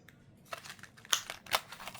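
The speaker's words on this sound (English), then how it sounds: "Shuffle one more time." Quiet papery shuffling of tarot cards with a few crisp slaps and riffles, two louder bursts standing out, close by with no talking.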